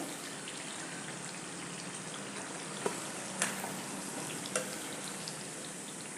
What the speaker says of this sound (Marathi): सोनेरी रंग येईपर्यंत याला तळायचं आहे